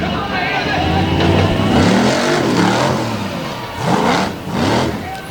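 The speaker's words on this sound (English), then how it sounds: "Votters in the safety clean Black Stallion picking up right where he left off with the vertical wheelies." A monster truck engine revs hard during vertical wheelies at a 2020 Evansville monster truck show, loud and close with rising and falling roars, while an announcer talks over it.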